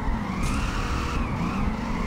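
Tyres squeal and skid continuously as a 1200hp Dodge Challenger drifts in the Peak Angle PC racing game, with the engine roaring steadily underneath. The sound is loud and sustained throughout, and nobody speaks.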